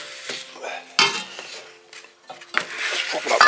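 A metal shoe plate from a Telma retarder on a Mercedes Sprinter is flipped over and handled, giving a few clanks and scrapes with faint ringing tones between them.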